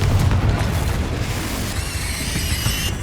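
Confringo explosive spell blast in the Hogwarts Legacy video game: a loud, heavy boom that rumbles on for a few seconds, followed by a bright ringing shimmer as it fades.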